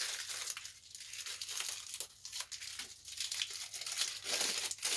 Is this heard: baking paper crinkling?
yes